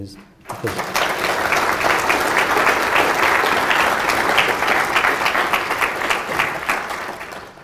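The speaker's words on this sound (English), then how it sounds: "And I think everybody can applaud Anna." An audience bursts into sustained, loud applause at a live event, honoring a speaker's guest. The clapping starts abruptly after a brief quiet moment and stays dense and steady to the end.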